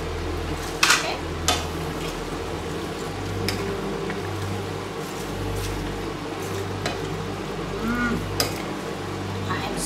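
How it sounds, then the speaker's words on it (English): Spicy vegan vegetables with cabbage simmer in coconut sauce in a pot, a soft steady bubbling under sharp utensil clinks and knocks as the mixture is stirred. "it looks like the coconut is simmering for at least 5-6 minutes. I'm going to add the cabbage."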